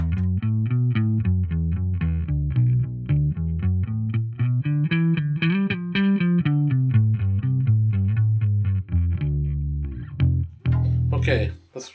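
An electric bass guitar fitted with new strings is picked, a steady run of close, loud notes with sharp attacks, then a few slides and scrapes of string noise near the end.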